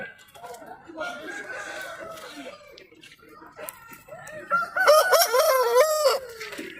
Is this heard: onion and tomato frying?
no